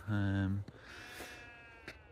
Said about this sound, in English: amongst the fields and the sheep and stuff